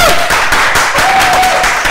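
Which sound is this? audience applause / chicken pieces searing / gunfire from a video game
audience applause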